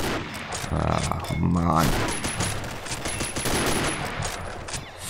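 Rifle gunfire in the online shooter game Combat Arms: dense, loud bursts of shots rattle continuously over game noise, and someone speaks briefly in German.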